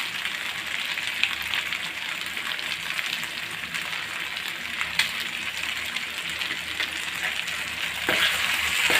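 Mutton fries in a pan with garam masala and kasuri methi, a loud, continuous close-up sizzle with occasional stirring scrapes and a brief surge near the end.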